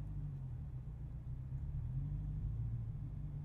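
Low, steady engine rumble from a Dodge Challenger Swinger with a manual transmission, idling and creeping in reverse at low revs; the sound is muffled and constant, heard from inside the car.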